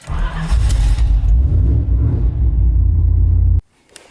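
A muscle truck engine fires up and settles into a deep, loud, rumbling idle close by, holding steady for a few seconds before cutting off abruptly.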